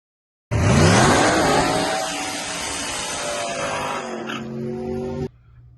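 A car at a racetrack starts up abruptly and revs hard, its engine pitch sweeping upward and then holding a strong, steady drone before cutting off sharply, loud and close.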